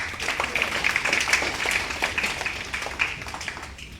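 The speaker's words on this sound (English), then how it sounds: "Give him a round of applause" Applause for Derek rises at a youth baseball league banquet, a steady wash of many hands clapping at moderate distance that continues without a break across the whole stretch, with no one talking over it.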